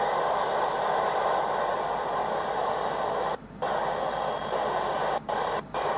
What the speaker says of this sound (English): So now you can hear a lot of static, and we do have a squelch so we can control a little bit of that static.